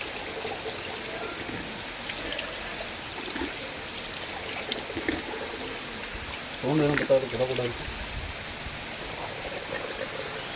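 Water flows and splashes steadily at the Siddharamappa pond in Srisailam, a continuous rushing wash with a brief human voice rising over it near the middle.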